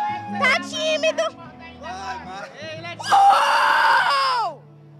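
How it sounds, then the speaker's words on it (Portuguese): Guests at a 15th birthday party chatter and shout, then break into a loud, sustained chorus of high screaming that holds for over a second before fading. "Que grito, hein?"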